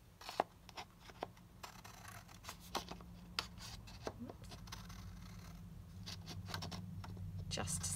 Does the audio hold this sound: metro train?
no